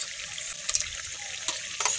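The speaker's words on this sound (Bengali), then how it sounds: "আর একটু জল দেবো" Water poured into a pot of fish curry being cooked with fish heads and garden vegetables, a steady splashing pour with a few louder gushes over two seconds, close by and with no talk.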